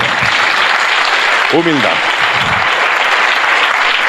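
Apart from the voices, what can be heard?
church congregation applauding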